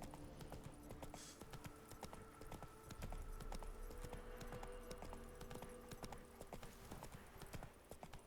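Roach, a horse in The Witcher 3 on PS5, trots with a steady clip-clop of hooves over a low game ambience and faint music, moderately quiet.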